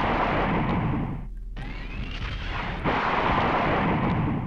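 Plasma gun fire in the PlayStation game Final Doom, a loud, continuous roaring barrage of blasts with a brief drop-out before the firing resumes, dense and close with no voices.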